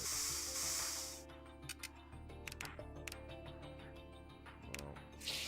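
Spray bursts in the Trauma Team video game, a broadband hissing spray in the opening second and again at the end, with short ticks and game music running underneath.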